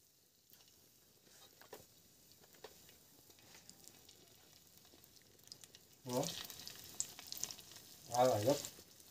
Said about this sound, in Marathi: आता मी फ्राय करते मच्छी